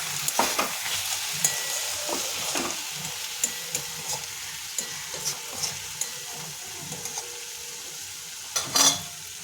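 Potatoes with turmeric being stirred in a frying pan, a steady sizzle under soft scraping strokes of a spatula, with a louder clatter near the end.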